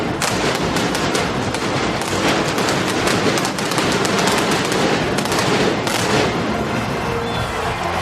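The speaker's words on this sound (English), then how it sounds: "let's listen to the fireworks" Dense, continuous barrage of fireworks popping and crackling, many bursts overlapping at a steady loud level with no pauses.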